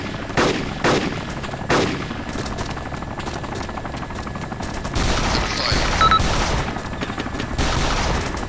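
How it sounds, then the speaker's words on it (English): Gunfire in ArmA 2 during a night squad battle against paratroopers: sustained rapid automatic fire and crackling shots, some closer and sharper bursts standing out, heavy and continuous throughout. "Oh, God! Taking fire."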